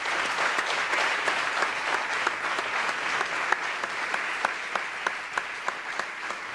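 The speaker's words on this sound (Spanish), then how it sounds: "Una foto para el recuerdo y otro aplauso de energía positiva ahí afuera." Sustained audience applause at the CRIS 2021 awards gala, a dense steady wash of many hands clapping with a few sharper nearby claps standing out, no speech over it.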